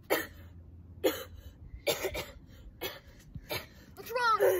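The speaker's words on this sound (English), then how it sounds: "I just coughed." Several short, sharp coughs come in separate bursts spread across a few seconds, close and fairly loud, with a brief vocal sound at the end.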